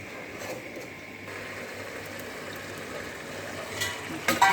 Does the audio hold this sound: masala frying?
yes